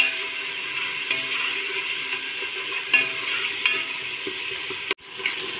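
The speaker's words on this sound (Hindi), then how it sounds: "अच्छी तरह इनको भून लेंगे प्याज के साथ" Ground tomatoes and onions frying in a pan, a dense continuous sizzle with occasional scraping stirs, close and fairly loud, briefly dropping out near the end before resuming.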